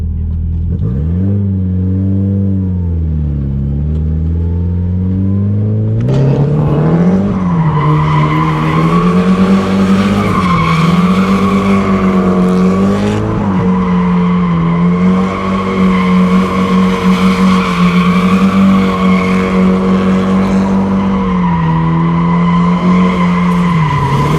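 A drift car corners hard with a clutch kick, its engine revving loud and steady while the tires skid and squeal through a long slide, with the engine note rising sharply partway through.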